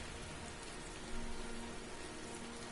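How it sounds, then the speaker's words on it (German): Constant, even rain from the video game Heavy Rain, a soft broadband hiss of drops with a faint low hum underneath, steady throughout and fairly quiet. "Und es regnet und regnet."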